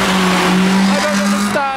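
A modified Japanese car spins its wheels as it leaves a Japanese car meet in Reading, with a loud, sustained tire squeal over the engine that shifts in pitch near the end.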